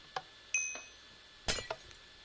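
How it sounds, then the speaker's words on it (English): Glass breaking in a Minecraft-style Crystal Tower map, a few sharp, bright clinks and shatters spaced irregularly, distinct against a quiet background, with no talking. "I heard glass that way."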